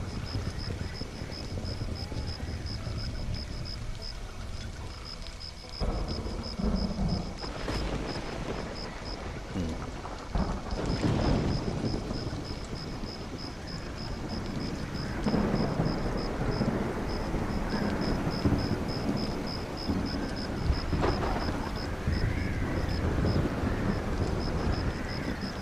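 Thunderstorm with rolling thunder and steady rain in the video game Stranded: Alien Dawn, a dense continuous rumble and wash of noise filling the whole stretch, with a repeating high electronic tone and occasional louder thunder swells.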